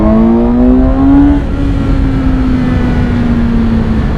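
A 2017 Suzuki GSX-S750 motorcycle engine accelerates from close by, a loud steady drone whose pitch rises briefly and then settles into a smooth, sustained hum with no talking.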